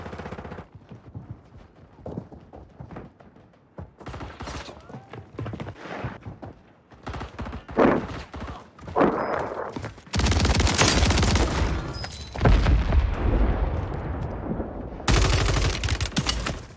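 Gunfire in Warzone 3 with a two-shot AA12 shotgun, scattered shots building to dense, loud sustained bursts of automatic fire and impacts.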